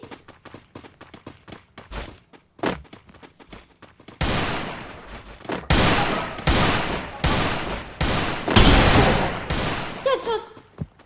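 Gunfire from the Free Fire video game comes as single sharp shots and then long dense bursts of rapid automatic fire, loud and close, with a player's voice talking in between.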